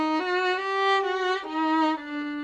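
Solo violin improvising in the Arabic Hijaz mode, bowing through the main tetrachord of the scale with sustained, slightly sliding notes that shift pitch a few times, close and clear with no talking.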